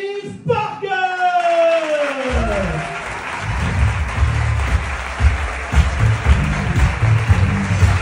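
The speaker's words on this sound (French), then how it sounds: "Mesdames et messieurs, je vous demande un tonnerre d'applaudissements pour Dave" Audience applause and cheering at a live comedy tour show in Braine-l'Alleud greet comedian Dave Parker, rising after a brief announcer's voice into a loud, sustained crowd of clapping with scattered whoops and shouts.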